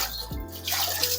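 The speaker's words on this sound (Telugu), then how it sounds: "ఇంట్లో ఒకసారి ఇలా నీళ్ళు పోసి నానబెట్టేసుకుంటే తొందరగా నానిపోతాయి" Water is poured in to soak food, a close, full gush that splashes and bubbles, dips briefly, then surges again.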